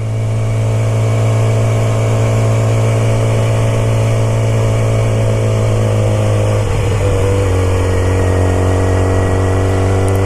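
Steady low drone of a 2006 Yamaha R6 motorcycle engine held quiet while riding through a neighborhood, loud and close, with a brief throttle change partway through and no talk.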